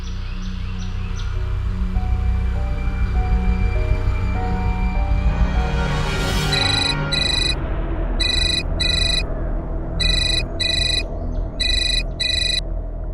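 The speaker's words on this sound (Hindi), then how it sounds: "बाबा बाबा कौनू जयदीप सिंह का फोन है।" A telephone ringtone sounds alone in repeated bursts, electronic tones pulsing in regular pairs over a low background hum, near and clear in a quiet room.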